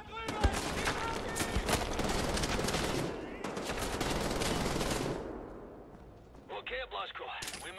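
A minigun fires in long, dense bursts in Wolfenstein: The New Order, a loud continuous roar lasting about five seconds before trailing off, followed by a voice speaking briefly.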